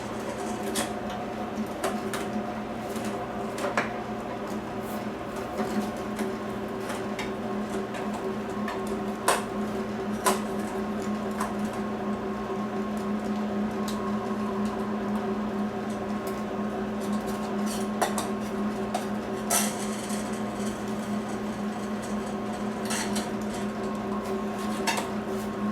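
A meat grinder runs breakfast sausage mixture through a second grind, giving a steady motor hum with a tonal whine and scattered clicks and knocks throughout.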